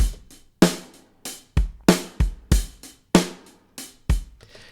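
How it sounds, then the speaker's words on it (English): A programmed drum track from the Addictive Drums plugin plays alone, with a steady groove of punchy kick and snare hits, tight hi-hat ticks between them, and short decays on each stroke. "I have some drums which sound like this."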